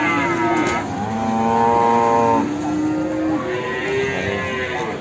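Cattle at a calf livestock market in Sragen low out in long, drawn moos, several overlapping calls close by and loud over a steady crowded background hum.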